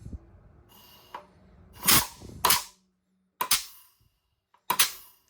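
Bursts of compressed air blown into a heavy-duty transmission's low reverse clutch passage during an air test, giving several sharp hissing puffs with short silences between them, close and loud.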